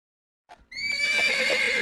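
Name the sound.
horse neighing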